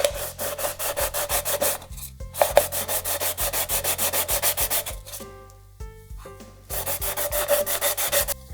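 Sandpaper rubs against an aluminium soda can in quick, rhythmic back-and-forth strokes. Bursts of scratchy friction sound are separated by brief pauses, close and fairly loud, with no voices.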